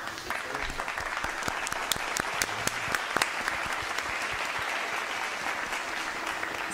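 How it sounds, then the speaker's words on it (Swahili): Studio audience gives steady, dense applause for a visiting ambassador on a television talk show, continuous clapping at moderate distance with a few louder individual claps and a voice briefly heard underneath. "Hapa kupigwa makofi unapigiwa makofi"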